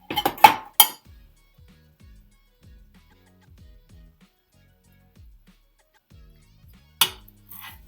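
A small metal teaspoon clinks and scrapes against a pan while spreading ghee for aloo paratha, a quick cluster of sharp taps at the start, then near silence and a couple more clinks near the end.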